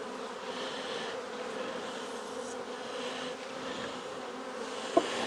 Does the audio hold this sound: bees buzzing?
yes